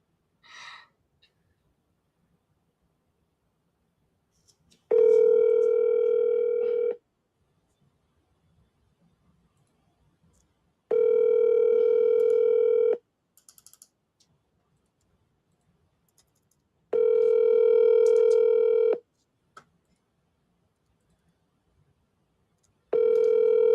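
Repeated telephone ringback tones sound while a call is placed: four steady, loud, evenly spaced buzzing rings of about two seconds each, separated by roughly four-second silences, with faint room noise and a brief breath at the start.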